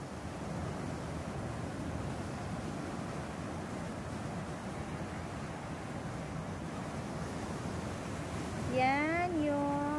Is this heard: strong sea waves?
yes